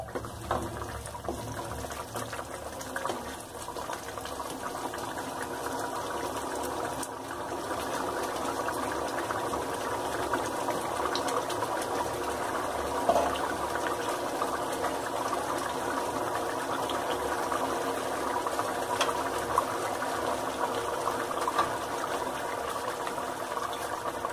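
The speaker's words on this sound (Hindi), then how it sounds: "अब इसको थोड़ी देर और पका लेंगे हम खोल के" Shahi paneer gravy simmering uncovered in a pan, a steady low bubbling and sizzling hiss that holds evenly throughout with no voices.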